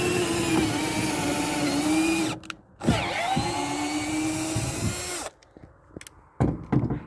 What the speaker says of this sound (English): See, drilled its first hole.